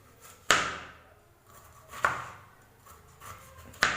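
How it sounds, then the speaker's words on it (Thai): Knife cuts through bitter gourd into rings on a board, three sharp chops spaced about a second and a half apart, each a close, crisp impact with a brief ring-off and faint knocks between. "แล้วหั่นให้เป็นแว่นๆ"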